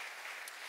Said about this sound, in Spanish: Ve, denle un aplauso a Cristo.